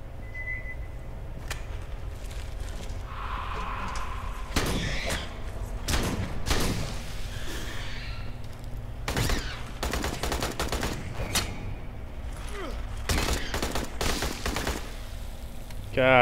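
Shotgun fire in the video game Aliens: Colonial Marines, with a series of sharp, loud blasts spaced irregularly over a steady background hum and game ambience.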